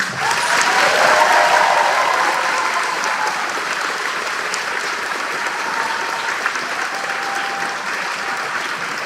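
An audience at an elementary school fourth grade celebration breaks into steady, full applause that holds at an even level for the whole stretch, with a crowd murmur mixed in.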